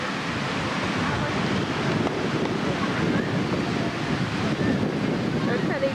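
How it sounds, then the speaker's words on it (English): Ocean surf rolling onto Maracas Beach under steady wind buffeting the microphone, a continuous broad wash of waves at moderate loudness. "You can hear the surf."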